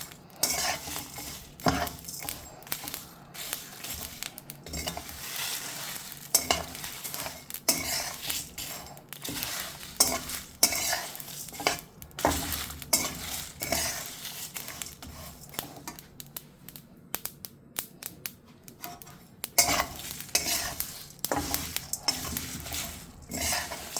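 Spice paste (masala) for a meat curry being stirred and fried in a pot, a steady sizzle under busy, irregular metal utensil scrapes and clinks, close and continuous, with no voices.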